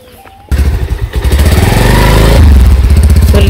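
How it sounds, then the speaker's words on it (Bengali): A motorcycle engine starts up close by after a quiet moment, then runs with a loud, throbbing putter that grows steadier and heavier as it idles. "ঘরের বাবা মোটরসাইকেল বের করে নিয়ে এসে পড়ছে।"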